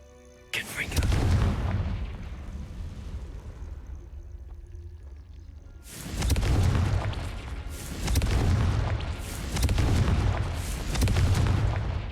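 In Hogwarts Legacy, a Confringo fire spell bursts with a loud booming explosion, followed by several heavy rumbling blasts that roll and fade in succession.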